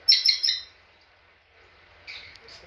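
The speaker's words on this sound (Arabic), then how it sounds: "ببغائي كنيور اناناس" Pineapple conure parrots, a wild breeding pair, give a quick burst of three sharp, close chirps, then fall quiet before a fainter squawk follows.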